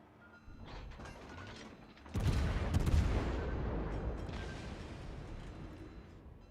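Ship guns fire in World of Warships: Legends: a heavy blast lands about two seconds in, with a ratcheting mechanical clatter before it and a long rumbling roar after that slowly fades.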